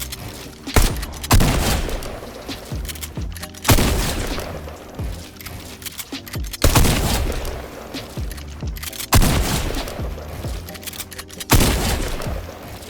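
Repeated bursts of gunfire from Fortnite gameplay, loud and close, coming in rapid volleys with short pauses between them, mixed with booming impacts and building sounds.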